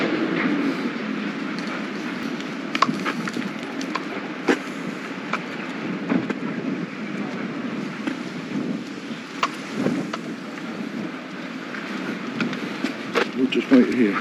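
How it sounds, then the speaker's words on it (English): Small steam train of a lakeside railway pulling into a station platform, a low steady rumble with scattered clanks and knocks, someone talking over it throughout. "So here comes a little steam train that we're going to be getting on"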